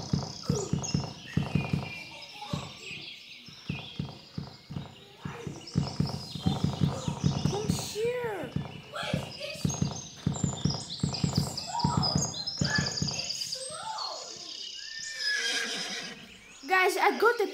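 Repeated horse neighs and whinnies mix with rhythmic clip-clopping hooves in a horse riding video game, lively and close, with a person talking throughout.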